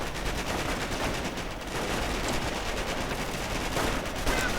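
Dense sustained gunfire in a WWII strategy game: overlapping machine-gun and rifle fire keeps up a continuous loud fusillade with scattered sharper reports, mid-distance and steady throughout.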